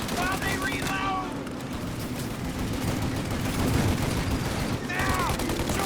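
Sustained gunfire in the video game Mafia: Definitive Edition, a dense continuous fusillade of shots with brief shouted voices over the barrage.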